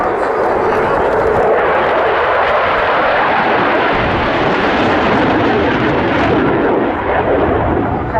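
Roaring aircraft engine of a display jet performing aerobatics at an air tattoo, a loud continuous rumble that swells and shifts in pitch as it passes overhead, filling the whole span.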